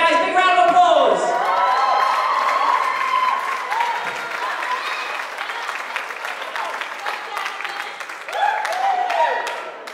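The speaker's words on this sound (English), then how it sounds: "Big round of applause." Audience applause with cheers and whoops rises for bachata dancers at a dance event, loud at first and gradually thinning, while voices call out and a speaker talks over the crowd.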